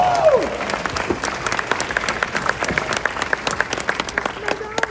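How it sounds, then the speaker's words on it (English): An audience at a Fort Worth business awards event applauds Ty Williams of R.J. Williams and Company Real Estate, winner of the top realtor CEO award. Dense, sustained clapping fills the room, with a brief whistle-like cheer at the start. "Give a round of applause."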